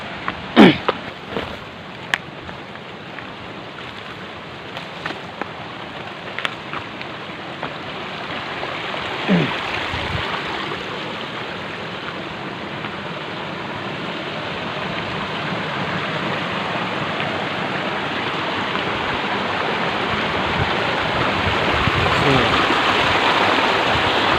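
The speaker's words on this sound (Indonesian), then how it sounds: "Ada sungai-sungai kecil." Small river stream flowing along a hiking trail through green hills in a South Sulawesi valley, a continuous rushing wash that swells gradually louder, with a few scattered knocks and clicks early on.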